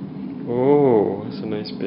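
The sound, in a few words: baby yawning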